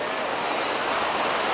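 Steady rain falls outdoors in Bandung during a street-naming ceremony, making a dense, even hiss of drops on surfaces that holds at a constant loudness throughout, with no voices.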